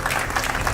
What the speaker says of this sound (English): So let's give a round of applause to the